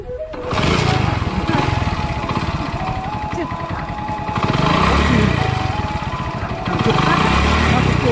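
A motor vehicle engine runs steadily and loudly close by, its throb swelling and easing in waves, with people talking over it.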